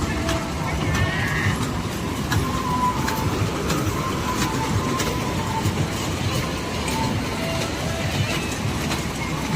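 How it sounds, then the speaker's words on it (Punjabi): A children's toy train ride runs at a busy Dussehra fair, giving a steady rumbling, clattering drone under continuous crowd noise and distant voices. "ਬੱਚਿਆਂ ਦੀ ਟ੍ਰੇਨ ਲੱਗੀ ਪਈ ਆ"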